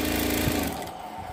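Sewing machine running fast as it stitches umbrella lining fabric for a 30-inch full umbrella, a brief close whirring burst that slows and fades.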